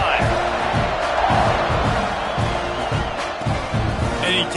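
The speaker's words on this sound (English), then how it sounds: "this crowd is feeling themselves after that last drive" Football stadium crowd at a KML vs Mizzou game cheering after a scoring drive, a broad roar under an announcer's steady play-by-play commentary.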